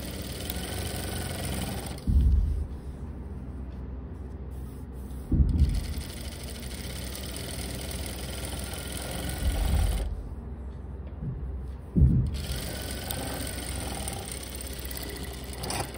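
Sewing machine stitching two strips of fabric for formal pants at once, a steady mechanical whir running throughout, broken by a few louder thumps as the fabric is handled.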